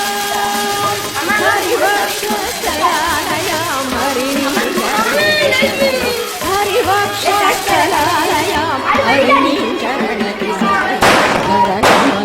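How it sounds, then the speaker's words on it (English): Firecrackers and fireworks set off during a village festival celebration, with loud dense crackling and bangs going on continuously, mixed with crowd chatter and music-like tones throughout. "kids celebrated with fireworks"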